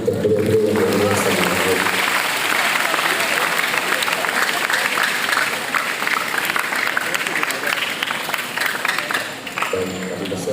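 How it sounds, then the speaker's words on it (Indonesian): Audience applause at a family gathering of the Bani Syukri Zarkasyi and Bani Rifa families, a long, loud, sustained round of clapping, with a voice speaking briefly at the start and again as it ends. "Berikan tepuk tangan untuk beliau-beliau yang berjasa."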